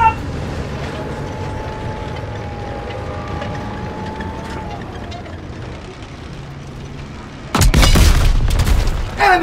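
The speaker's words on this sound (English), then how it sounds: "Enemy tank destroyed!" Call of Duty WWII battle: after sustained rumbling engine and gunfire noise with a long tonal whine, an enemy tank blows up in a loud, broad booming explosion near the end, followed by crackling debris.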